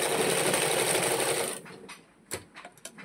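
A sewing machine stitches the back lining of a jacket, running in a steady, loud close-up burst for about a second and a half before stopping, followed by a few soft handling clicks and rustles.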